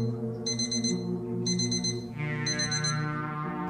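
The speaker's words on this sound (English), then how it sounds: "that alarm clock is fake" An alarm clock rings in three evenly spaced bursts of rapid high beeping, fairly loud over a continuous humming, tonal background with no talking.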